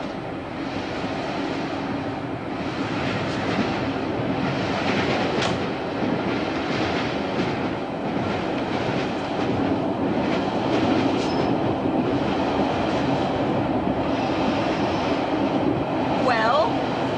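A train running on rails, with steady rumbling and rhythmic clickety-clack from the carriage throughout, while people talk over it.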